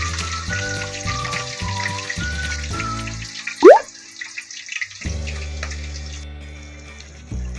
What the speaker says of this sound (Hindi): हम लोग ने इसमें खाली थोड़ा सा पानी ऐड किए भाजी पे।